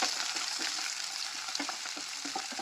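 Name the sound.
green chillies, curry leaves and onion frying and stirred in pan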